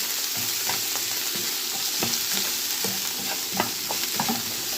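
Peppers frying in a pan under a constant bright sizzle, with a spoon scraping and stirring in irregular strokes, close and with no voices.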